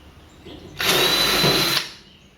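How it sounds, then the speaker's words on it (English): A power drill whines loudly for about a second, biting into a metal rivet, then spins down, with quiet room noise before and after. "To get rivets out, you just basically drill them out."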